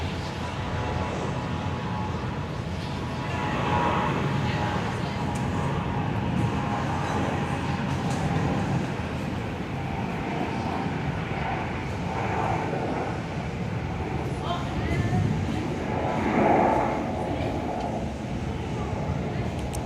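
Netlink Fokker 100 jet on its takeoff roll from runway 21 at Perth airport, a steady broadband roar heard from a distance that swells slightly midway and holds throughout.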